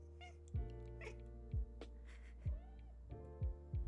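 A cat gives several short meows spaced about a second apart, close and fairly quiet indoors, with no talking in between.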